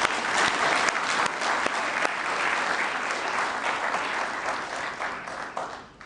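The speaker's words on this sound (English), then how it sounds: "Let us join hands to applaud ourselves" Sustained applause from a seated assembly at the opening session of the ARIPO Council of Ministers in Gaborone, dense and steady throughout before thinning slightly at the end.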